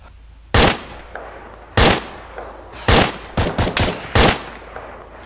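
Loud, close gunshots ring out in the military shooter game ARMA 3: two single cracks spaced apart, then a quick cluster of several shots, each with a short echoing tail over quiet background noise.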